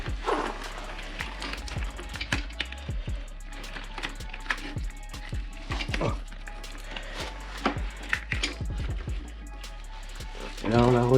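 A motorcycle chain on a Rieju MRT 50cc is worked over the sprocket by hand, giving irregular metallic clicks, ratcheting ticks and rattles, close by, while a person talks over it.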